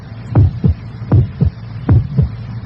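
A heartbeat sound effect in a Duracell battery advert, a steady lub-dub thump repeating about four times, deep, loud and close with a low hum underneath.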